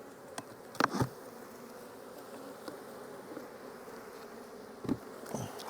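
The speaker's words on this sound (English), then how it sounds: "just pretty much an amazing colony of bees" Honey bees from a strong colony hum faintly around open hive boxes in a bee yard, with a few sharp knocks and brief louder passes standing out against the quiet drone.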